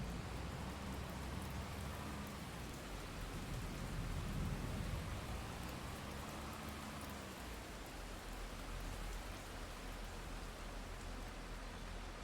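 Heavy rain pours steadily on a forest farm, a dense continuous hiss that stays loud and even throughout, with no voices over it.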